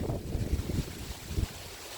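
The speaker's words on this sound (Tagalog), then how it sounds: "Yan, lakas talaga ng hangin." Strong wind from Typhoon Kristine buffets and roars in heavy, gusting rumbles in Bohol, Philippines, pounding loud and close with no voices.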